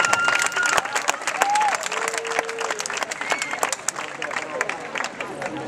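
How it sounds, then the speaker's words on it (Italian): Audience applause at a song festival in Portocannone, a dense crowd clapping loudly and steadily throughout, with a few voices and whistle-like tones rising through the clapping. "un applauso anche a lui"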